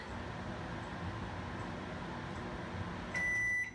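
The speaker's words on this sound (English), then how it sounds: "stick it in the microwave" A microwave oven's low, steady hum runs throughout. Near the end, a single sustained electronic beep sounds, clear against the quiet drone.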